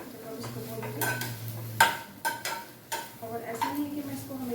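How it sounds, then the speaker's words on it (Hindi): Soya chunks are stirred and fried in a non-stick pan, with a spatula scraping and clinking against the pan in irregular strokes over a faint sizzle. "इस तरीके से हम अच्छी तरह से भून लेंगे जब तक ये ब्राउन नहीं हो जाते"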